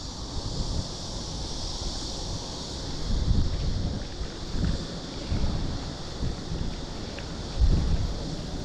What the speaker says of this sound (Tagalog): Pasalubong yung hangin ngayon.